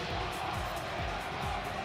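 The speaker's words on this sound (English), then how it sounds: "Look at the crowd here. They're chanting for KBR." A crowd at the Evo 2023 Ultimate Marvel vs. Capcom 3 top-four tournament cheers and chants for a player. The dense, steady roar of voices fills the arena, and no single speaker stands out from it.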